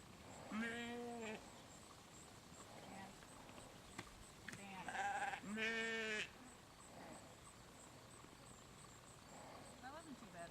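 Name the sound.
sheep bleating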